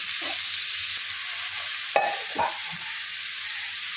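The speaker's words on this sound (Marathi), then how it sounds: "आता आपण भिजवलेली मुगाची डाळ टाकत आहे" Soaked moong dal is stirred into cabbage frying in a pan, giving a soft, steady hiss broken by two brief scraping clatters of the spoon in the middle, with no speech.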